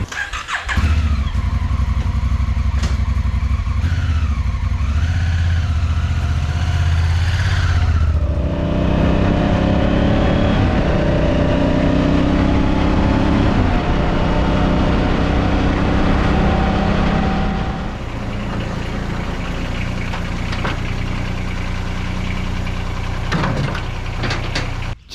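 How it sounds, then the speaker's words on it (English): A motorcycle engine runs close by, revving and rising in pitch as it pulls away and shifts, a continuous loud rumble throughout. "Do a motorcycle ride."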